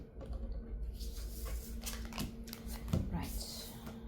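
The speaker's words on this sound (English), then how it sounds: "let's shuffle your deck and ask what you have pertaining to love" A deck of tarot cards is shuffled close up, a run of soft riffling and flicking rustles with a couple of sharper snaps, while a voice talks quietly over it.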